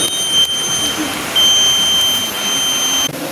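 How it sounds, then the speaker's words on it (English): Proximity-sensor buzzer on a collision prevention system project, a thin steady high tone sounding in long stretches with brief gaps, fairly quiet against a faint background hum. "9 centimeter, the buzzer is on."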